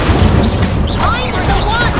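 A fiery spell is cast in the Hogwarts Legacy video game, making a loud roaring, crackling burst with whooshing swirls over dense, noisy game sound.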